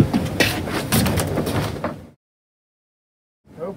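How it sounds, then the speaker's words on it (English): A smokehouse door swings open during a bourbon-cured pork belly bacon smoke, giving about two seconds of close, loud rattling and scraping that then cuts to silence before faint noise returns. "Open the smoker."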